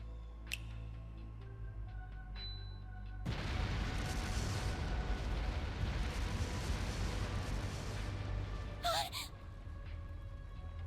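Explosive artifacts set off throughout a palace in the video game Trails Through Daybreak: a sudden, loud, rumbling blast erupts after a few seconds of quiet background music and roars on for about seven seconds before cutting off.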